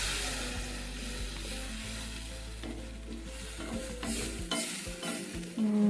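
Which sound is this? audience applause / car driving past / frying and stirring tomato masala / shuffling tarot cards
frying and stirring tomato masala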